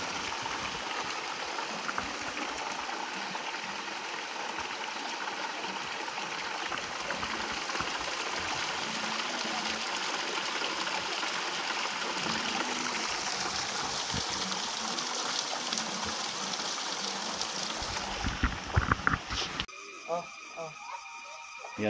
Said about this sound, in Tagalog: Pakinggan lang muna natin yung tubig.